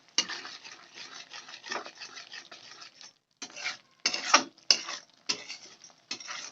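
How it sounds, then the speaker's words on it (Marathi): A spoon scrapes and stirs yogurt into a paneer gravy in a pan, making a run of soft wet swishes and light clinks in short bursts with a brief pause in the middle. "हे एकसारखं असं आपण हलवून घ्यायचं आहे."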